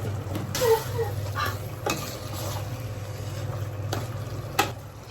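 Chili powder cooks with tomatoes in a pan for chicken curry, a soft steady sizzle under a few sharp spatula scrapes and clinks against the pan.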